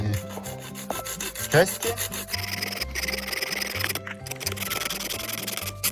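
Hand saw rasping through bone to rough out a fish hook shape, a close, steady back-and-forth rubbing cut in quick strokes with small knocks.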